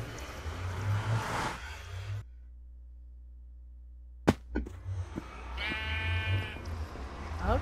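Sheep bleating in the video game Minecraft, a couple of short bleats near the end after a loud stretch of game noise, a brief silence and a sharp thump.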